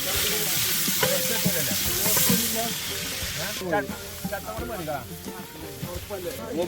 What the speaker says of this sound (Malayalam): ഉള്ളി ഇട്ടു.